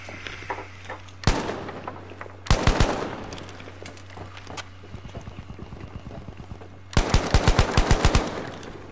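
Bursts of rapid automatic gunfire in the video game Battlefield V, with a single sharp shot, then several volleys of loud close rounds separated by quieter stretches.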